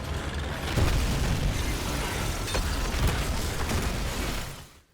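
Contact beam weapon firing in the Dead Space remake, a sustained loud blasting roar with rumbling booms and mechanical whine running for about five seconds before cutting off.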